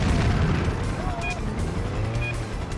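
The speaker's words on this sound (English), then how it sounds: "Explosion." Explosion in the Stuntman video game, a dense, heavy rumbling roar that fills the whole moment, steady and loud, with engine-like noise mixed in.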